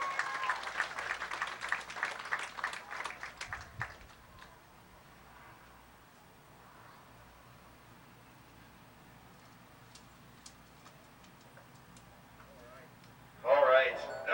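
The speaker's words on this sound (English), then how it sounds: "How about giving Braden Swaney a big round of applause as well?" A speedway crowd at Midvale Speedway applauds a driver, a rough, distant spatter of clapping over the PA for about four seconds, then quiet background until a voice cuts in at the end.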